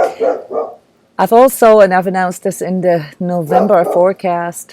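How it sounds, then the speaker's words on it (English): A dog barks repeatedly in loud, rhythmic yips and woofs close by, running over and between a person's speech. "Sorry for the dog barking."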